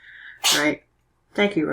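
A single short sneeze bursts out between two brief stretches of talking voices, close and fairly loud.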